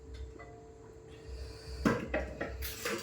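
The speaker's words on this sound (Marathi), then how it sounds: "ह्या भांड्यांचा आवाज येत राहणार" Dishes and metal utensils clatter as they are washed at home, with a few sharp clanks and knocks over a quiet background hum, close by and with no talking.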